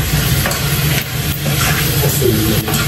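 Food browning in hot oil in a home kitchen, a steady close sizzle and crackle running unbroken throughout, with a few soft stirring scrapes and no voices.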